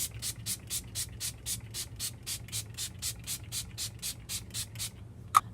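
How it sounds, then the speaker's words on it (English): Rapid short bursts of Too Faced Hangover 3-in-1 setting spray mist onto a face, about twenty even hissing pumps in a steady rhythm, close and fairly quiet. "now I'm just going to quickly spray my face with some Too Faced Hangover"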